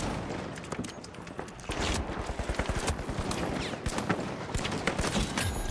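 R.357 revolver gunfire in the video game The Finals: a rapid, loud run of shots mixed with surrounding battle fire, sustained across the whole stretch.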